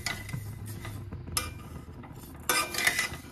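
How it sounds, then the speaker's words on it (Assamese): Sugar being stirred into a coconut chira mixture in a pan over a medium gas flame, a spoon scraping and clinking against the metal in steady strokes, with a louder burst of scraping near the end. "আৰু এইখিনিটো একদম ভালকে লৰাই থাকিব লাগিব আৰু এতিয়া নন ষ্টপ হাত লৰাব লাগিব"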